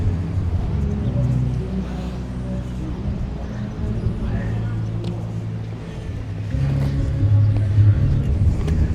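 A 1932 Ford with flames painted on its fenders idles at a car cruise, giving a steady, close, low engine rumble that grows slightly louder near the end, with faint voices nearby.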